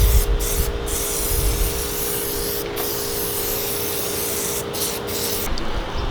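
Plasti Dip from an aerosol can hisses onto car trim on a Mazda 3 in a long steady spray, broken by a few short gaps and ending with a quick burst, close and loud over a low hum.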